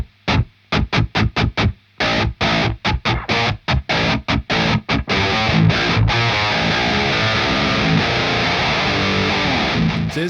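Heavily distorted electric guitar through a Peavey Invective amp with its noise gate engaged, first tight staccato chugs cut to dead silence between hits, then sustained loud riffing.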